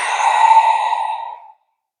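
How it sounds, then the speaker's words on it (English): A long exhale during a yoga practice, audible as one soft, breathy sigh that swells and then fades out after about a second and a half, followed by silence. It is close and fairly loud, with no talk over it. "Breathing in and breathe out."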